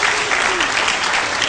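Brief, loud burst of applause from an audience greeting a presenter, a dense wash of overlapping claps that stays even throughout.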